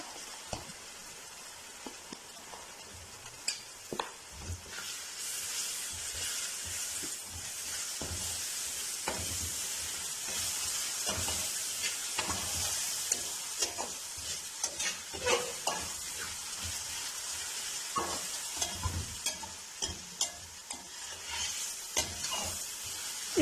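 Ginger garlic paste sizzles and fries in a hot pan, with a steady hiss and occasional scraping stirs of a spoon; no talking.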